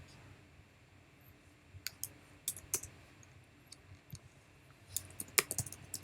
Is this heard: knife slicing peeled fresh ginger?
no